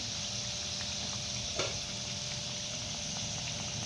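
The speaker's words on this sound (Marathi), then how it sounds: "पुन्हा आपण दोन कचोरी तळ्यासाठी टाकलेले आहे" Wheat-flour pea kachoris fry in hot oil with a constant close hiss and sizzle, plus a single soft clink midway.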